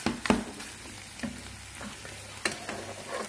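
Bacon lardons crackle and sizzle in a pan, a steady close frying hiss broken by several sharp spits and pops, with no voices.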